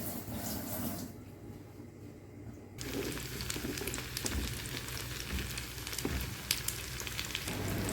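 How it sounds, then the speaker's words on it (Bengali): Fish frying in a wok, a steady crackling sizzle that drops away briefly early on and then resumes with scattered pops and spits close by, no talking. "আর এখন কড়াইতে মাছগুলো ভাজতে থাকবো।"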